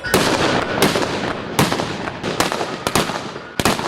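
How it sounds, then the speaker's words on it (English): Cannon broadsides firing in a mock Battle of Trafalgar reenactment, a series of loud, sharp booming blasts at irregular intervals over a rolling roar, heard alone without talk. "Broadside to broadside, the action is fierce."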